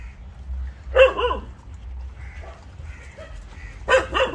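Dogs gathered at the Dog Temple in Arambol, Goa, bark and yip nearby in a few short bursts, one early and a louder cluster at the end, with quieter whines between.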